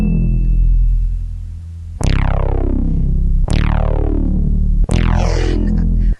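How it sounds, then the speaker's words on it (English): A harsh, buzzing synth bass plays sustained notes, each restruck with a bright growling attack that slowly darkens, three times in a row, loud and alone. "And then I added a harsh bass that sounds like this."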